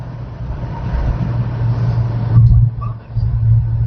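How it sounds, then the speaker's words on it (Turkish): A Fiat Stilo 1.6 engine hums steadily while driving, its pitch rising slightly as it revs, with a brief drop and recovery near the end. "Dediğim gibi devir yükseldikçe motor sesi geliyor"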